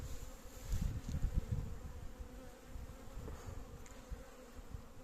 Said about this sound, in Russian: пчелки потихоньку стали из нуклеусов вылетать, облетываться